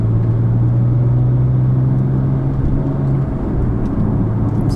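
Porsche 911 Turbo 997TT driven gently on its first spring outing with three-month-old petrol in the tank, a loud steady low engine drone and road rumble with a sustained hum that fades partway through.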